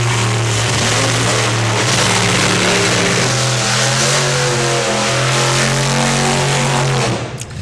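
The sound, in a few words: hot rod drag car revving for burnouts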